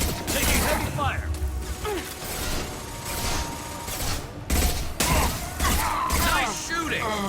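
Heavy gunfire from the video game Mass Effect Legendary Edition: dense, continuous bursts of shots and mechanical clatter, loud and close, with voices shouting over the fighting.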